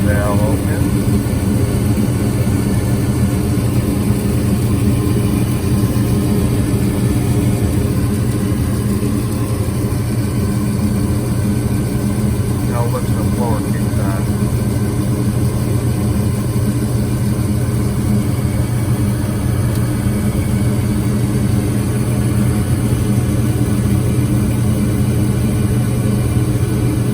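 A gas furnace burner running just after ignition on a service call, heard as a loud, steady, low roaring hum that holds unchanged for nearly half a minute.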